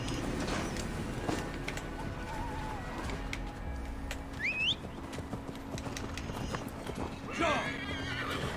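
Horse whinnying in Assassin's Creed Valhalla, a rising neigh standing out over a steady game soundscape of hoofbeats, birds and background ambience, with another whinny near the end and talk at times.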